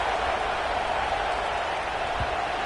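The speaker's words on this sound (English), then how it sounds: "this crowd is buzzing after that last score" A football stadium crowd buzzes after a score, a dense steady roar of many voices and faint applause that holds evenly throughout.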